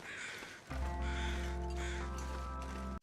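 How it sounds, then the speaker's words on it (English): Crows caw in the snowy wilderness of the video game The Long Dark, a few harsh calls over a steady low ambient hum. "Check these crows over here."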